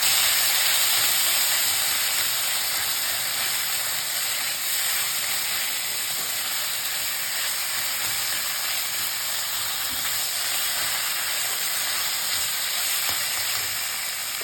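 Boiled pumpkin pieces frying with black cumin in a hot pan, a steady loud hiss and sizzle that runs unbroken throughout with no voices.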